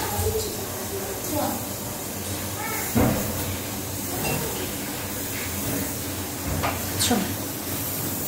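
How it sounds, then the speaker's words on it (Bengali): Betur fish sizzles in a frying pan, a steady hissing spatter with occasional louder bursts of crackle while a person talks over it. "চলো এদিকে ফ্রাই প্যানটা বসিয়ে দিই, বেটুর মাছটা ভেজে নিই।"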